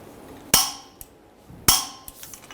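Hammer striking a punch to stake the axle nut on a 2003-2008 Honda Pilot front CV axle: two sharp metallic blows about a second apart, each followed by a few lighter taps, close and alone.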